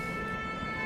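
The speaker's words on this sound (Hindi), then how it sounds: "लारजी डैम के सायरन बज रहे हैं," Warning sirens of the Larji dam in Kullu's Sainj valley sound during heavy rain and flooding, a steady sustained wail with a faint distant quality over a broad background rumble.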